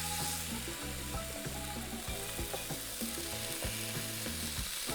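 Marinated chimichurri chicken searing in a single layer in a skillet, a dense, steady sizzle and crackle over a low rhythmic hum, constant and fairly close.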